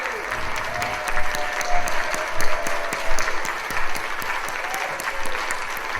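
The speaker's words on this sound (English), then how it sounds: "please stand up, because I think you deserve a round of applause" An audience applauds JVL members as they stand at a Labour Heroes award event, a sustained crowd of clapping with sharp individual claps standing out and a voice speaking faintly underneath.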